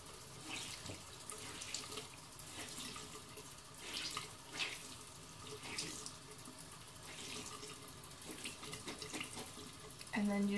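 Tap water runs steadily into a sink while makeup sponges and beauty blenders are rinsed and squeezed, a close, continuous splashing hiss with small irregular surges and no talk over it.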